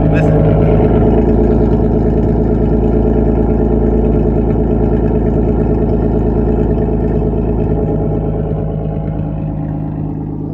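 Steady idle of a manual-swapped 7th gen Nissan Maxima engine, a continuous close rumble with even rhythmic pulsing, alone throughout and easing slightly near the end.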